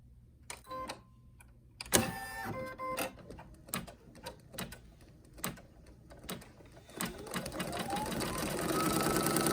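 A Brother NQ1700E or PE800 embroidery machine stitching a placement line for vinyl: bursts of rapid mechanical needle clatter and whirring, separated by short pauses, rising to a continuous run near the end, close and fairly quiet.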